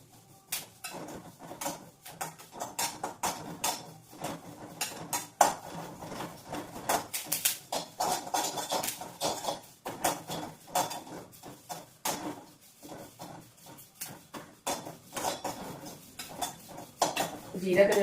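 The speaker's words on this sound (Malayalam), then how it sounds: "കറിവേപ്പില ഇങ്ങനെ വറുത്തെടുക്കണം." Curry leaves fried in oil in a pan, stirred with repeated metallic clanks and scrapes of a utensil against the pan in an irregular rhythm, with soft voices in the background.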